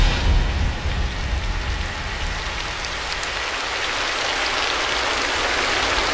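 Rain falling in a dense, continuous patter and hiss on surfaces nearby, loud and steady throughout, with a heavier low rumble at the start.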